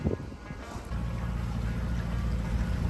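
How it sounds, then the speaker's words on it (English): Sailboat with its mainsail lowered, motoring into the busy entrance channel at Olbia, Sardinia, in gusty wind; a steady low engine drone with rushing wind and water noise runs throughout after a brief softer start. "we're just going to get the mainsail down and motor the rest of the way because it's pretty gusty"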